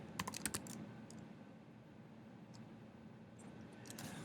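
A passphrase is typed on a computer keyboard in quiet, sparse key clicks, a short cluster at the start and a few scattered taps later, faint against a low room hum.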